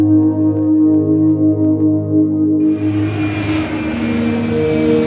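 Airliner jet engines hum at cruise altitude, a loud, steady low drone with tonal bands. Partway through, a broader rushing wash joins in and keeps going to the end.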